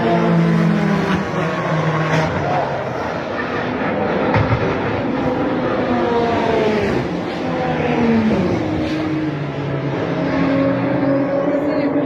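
Race cars come out of the pit lane at an IndyCar-style race, engines whining and rising in pitch as they pass, with a voice talking over the steady motor drone.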